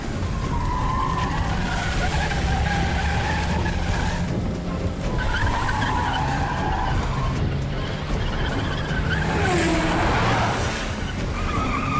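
Cars in a movie chase skid with repeated tire squeals over a continuous engine roar, loud and close, in several drawn-out bursts under a busy, noisy mix.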